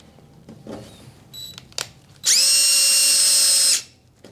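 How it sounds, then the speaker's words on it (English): A power drill runs in one steady burst of about a second and a half, driving screws to fasten an adapter during a Hauslane UC-B018 range hood installation, preceded by a few faint clicks and handling noises. "We're going to insert the screws to fasten it securely."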